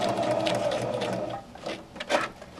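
A sewing machine stitches zigzags on fabric, its needle running in a steady, close mechanical whir that briefly eases and picks up again, with no voices.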